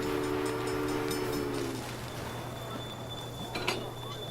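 A train in the railroad-building game Railway Empire rumbles steadily through a rural scene around a corn farm near Omaha, with a drawn-out whistle-like tone at first that fades into continuous rail noise and a brief bright clank.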